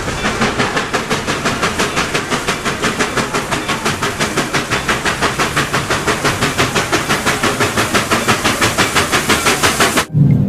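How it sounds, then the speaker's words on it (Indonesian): A toy steam train chugs in a fast, even rhythm of puffs close by, a steady mechanical beat that runs for about ten seconds before stopping abruptly with a brief clunk. "Yang ini kereta uap."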